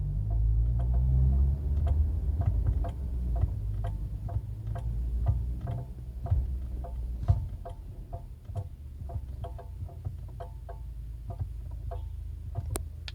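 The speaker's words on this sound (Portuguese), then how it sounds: "Ele dá como se fosse uns estalos e como se tivesse alguma coisa batendo, como se fosse de uma panela e você estivesse batendo com uma colher." Repeated light clicking and knocking from the brakes of a Chery Tiggo 7 Sport, a steady run of sharp ticks over a low rumble of passing traffic, with no talking.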